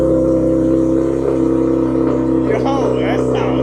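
A Nissan 370Z with equal length headers and a valve exhaust idles on its first cold start, a steady close, loud engine drone throughout, with brief faint sounds near the end.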